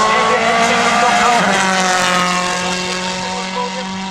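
Danny Sordo's number 7 rally car on a Wales Rally GB circuit stage, a loud sustained engine drone that shifts pitch midway as it passes close by, with a commentator's voice over it.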